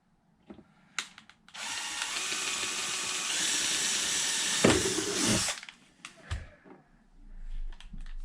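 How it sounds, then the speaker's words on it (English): A power drill whirs loudly and steadily for about four seconds while making roof sliders for a Tekno MT 410 RC car. Brief handling clicks and knocks come before and after the run. "I need a drill."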